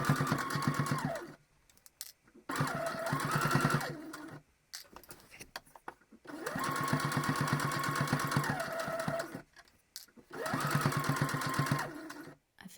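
Sewing machine running a twin-needle topstitch along a shirt hem, whirring in steady bursts of a few seconds with short pauses between runs, close and clear.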